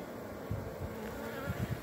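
A swarm of honeybees hums steadily up close as it marches into a hive, a continuous buzz with a few soft thumps beneath it.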